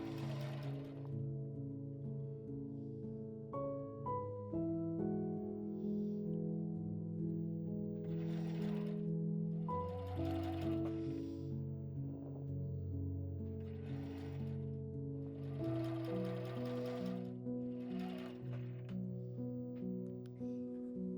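A sewing machine stitches four fabric pieces together with a 7 mm seam allowance for a small bag, giving soft, rhythmic mechanical clatter in short bursts and pauses, quiet and close, with no talk.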